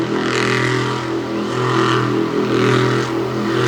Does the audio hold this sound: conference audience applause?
no